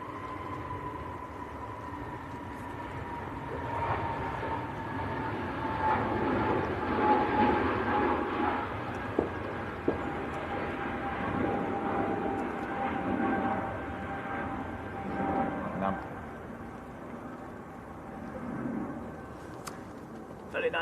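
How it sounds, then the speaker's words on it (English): A Hainan Airlines Airbus A330 taxis out at Manchester Airport, its engines a steady distant whine and rumble that hold evenly throughout, with faint murmurs and background noise around it. "Very nice aircraft starting to taxi out. Hainan A330 going to Beijing."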